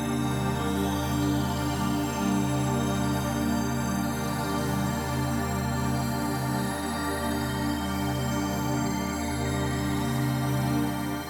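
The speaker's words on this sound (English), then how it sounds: "I have 4 instances of the Korg Triton here, each one kind of playing a different role," Layered ambient pads from four Korg Triton synthesizers, each covering a different role and together filling the whole range: a dense, steady, sustained bed of tones that holds evenly at moderate level throughout, with no voices.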